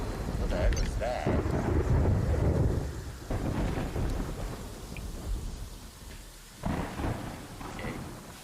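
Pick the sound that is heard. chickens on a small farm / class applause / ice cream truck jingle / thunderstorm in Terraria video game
thunderstorm in Terraria video game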